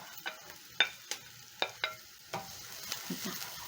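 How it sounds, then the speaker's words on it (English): Onions cooking in a pan for a fish stew, a quiet sizzle broken by scattered sharp clicks of a utensil stirring against the pan, with no voice present. "So as my onions are cooking"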